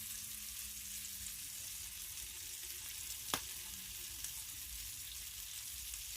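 Sausages frying in a pan, a steady close broadband sizzle running throughout with a brief sharp click midway, no voices.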